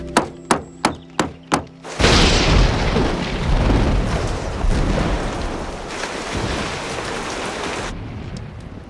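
A rain storm with thunder over a roof: six sharp rhythmic knocks, then a sudden loud boom that swells into a dense, steady roar of rain, which drops away near the end.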